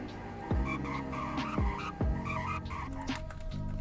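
A sheriff patrol car in the Greenville driving game brakes hard during a braking test, giving several short squealing skid sounds in quick succession over a steady engine drone, close and moderately loud.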